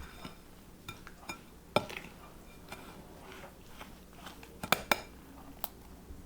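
Softened unsalted butter, olive oil, lemon and sugar are mixed in a bowl, with a utensil giving quiet, irregular clinks and knocks against the bowl and a few sharper taps, and no talking.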